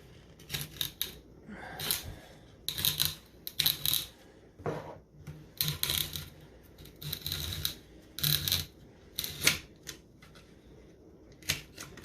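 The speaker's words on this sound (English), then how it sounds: "you're going to cut out the spider" A blade slicing out the spider of a Crossfire subwoofer during a recone gives repeated short scraping, crunching cuts in bursts, close and fairly loud, with brief pauses between strokes and no talking.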